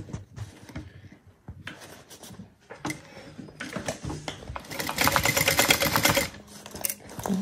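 Sewing machine stitching the seam of a fabric bag, starting with short stop-start bursts of rapid mechanical clatter that build into a loud, fast, continuous run of needle strokes near the end.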